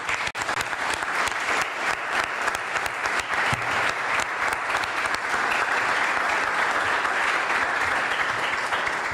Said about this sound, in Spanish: les pido un pequeño aplauso